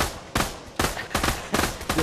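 Dual pistols fired in the VR shooter Pavlov, four loud bursts of rapid shots in quick clusters with short gaps between them, close and punchy, with no talk.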